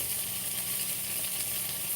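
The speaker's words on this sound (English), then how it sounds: "All right, so I'm now cooking the onion" Onion frying in a little olive oil in a pan, giving a steady, close sizzle with a continuous bright hiss and no pauses.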